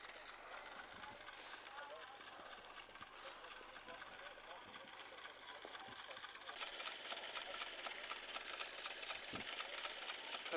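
An old engine runs at a motor show, a steady busy mechanical chatter like a sewing machine that holds through the whole stretch and grows a little louder toward the end, with crowd noise in the background.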